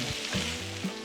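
Sisig sizzles in butter in a hot pan with a dense, bright crackling hiss, broken by a few soft scraping stirs, close and steady with no voices.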